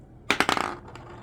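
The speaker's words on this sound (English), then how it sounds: "You roll the dice." Dice clatter onto a hard surface in a quick burst of bright rattling clicks that bounce and settle within about half a second, followed by a faint final tick, heard alone without talk.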